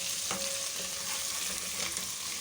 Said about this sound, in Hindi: ये हमारा चिकन फ्राई हो रहा है।